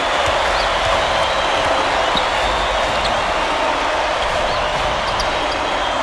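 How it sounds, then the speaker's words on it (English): Steady, dense crowd roar from a virtual arena in the basketball video game College Hoops 2K8 on Xbox 360, loud and continuous throughout with a faint bounce or two. "This crowd is going insane."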